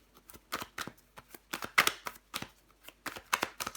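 Tarot cards being shuffled and laid out, giving a series of soft, crisp riffling bursts in a quiet room with no talking.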